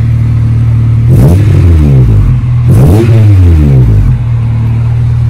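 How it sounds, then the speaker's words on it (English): A cold car engine revs sharply twice through a loud, raspy Spoon N1 replica exhaust, rising and falling close by between a steady idle. "the exhaust is a Spoon N1 replica and it just sounds terrible"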